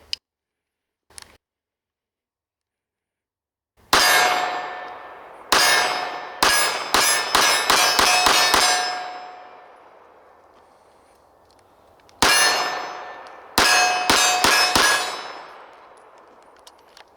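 Pistol rounds of .380 from a Tisas Fatih 13 strike steel targets, producing two rapid strings of sharp, ringing clangs, about fourteen hits in all, each note fading out after the last impact.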